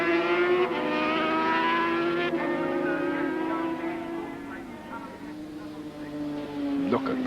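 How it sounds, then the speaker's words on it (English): A Ducati racing motorcycle bellows through the 1991 Macau Grand Prix, its loud, rich engine tone sliding downward in pitch and then rising again. A commentator talks over the engine throughout. "Look at Bennett on the Ducati, the lovely bellowing tone."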